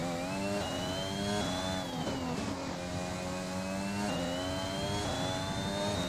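Simulated Formula 1 car engine in the F1 2021 video game at Singapore, loud and continuous high-pitched whine rising and dropping with quick gear changes through the six seconds, no talk over it.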